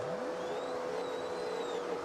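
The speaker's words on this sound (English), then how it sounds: "I hear engines revving up to the sky." Car engines rev and whine during a drift championship race, a steady loud mechanical drone with rising and falling pitch sweeps, somewhat distant, no talking.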